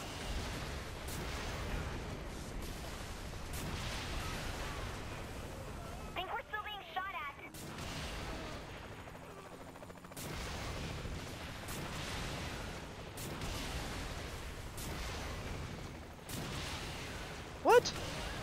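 Rocket launcher blasts and explosions from Saints Row: The Third, a run of loud booms and gunfire bursts with a short quieter gap near the middle, while a voice talks over the action.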